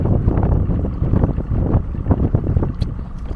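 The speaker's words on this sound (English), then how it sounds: "The wind is really picking up, which I figured was going to be the case" Strong wind gusting over a lake while fishing in late winter, a loud steady roar of buffeting air against the microphone with irregular surges and no talking.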